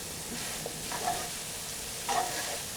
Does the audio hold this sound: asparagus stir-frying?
yes